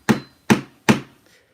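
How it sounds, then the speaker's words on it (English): Three sharp hammer blows strike sheet metal to crease it while building a stator, evenly spaced about four tenths of a second apart, each a loud close bang with a short ringing decay, then quiet. "you take a hammer and you bang the top of this"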